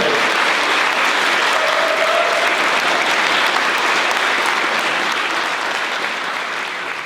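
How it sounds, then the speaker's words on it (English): A crowd applauds steadily and loudly, a dense wash of clapping that holds for several seconds before starting to taper off. "give one big round of applause for the volunteers who have worked so hard to achieve it"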